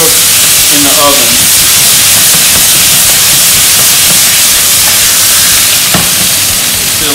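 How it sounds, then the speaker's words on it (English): Short ribs sauté and sear in a pan, a loud, dense continuous sizzle with hissing steam and a few stirring clatters throughout. "I'll just keep on sautéing these for a little bit."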